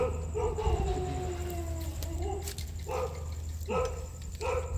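Dogs bark and howl at a distance, several short bursts spread across the clip over a steady low background hum.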